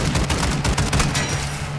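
The Wunderwaffe weapon fires in Call of Duty MW3 Zombies, a rapid run of loud crackling bursts close up that tapers into a softer rumbling tail.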